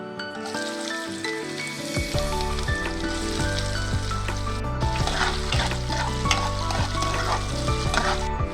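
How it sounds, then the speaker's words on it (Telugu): Onions sizzle and crackle in hot oil with tempering seeds, a bright continuous hiss running beneath loud, rhythmic background music. "తాలింపు గింజలు వేగాక ఆనియన్స్ వేసుకుందాం."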